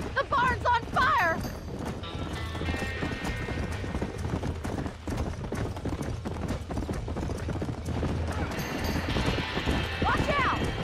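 Horses galloping with rapid, continuous clip-clop hoofbeats and a whinny near a burning barn in Red Dead Redemption 2, with voices shouting over the commotion.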